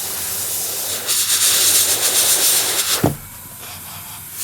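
An airbrush sprays light coats of transparent paint, a continuous bright hiss that strengthens for a couple of seconds, then stops abruptly with a short pop, leaving a low background.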